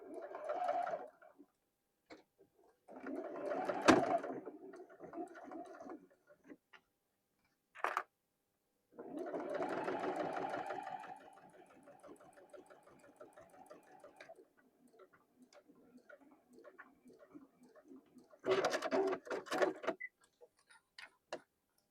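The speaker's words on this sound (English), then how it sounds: "we'll see if we can sew that before we have to take it apart and pull that thread out" A sewing machine stitching across a zipper on a small mini tote key chain, running in short bursts of rapid mechanical ticking separated by pauses, close and fairly quiet with no talking.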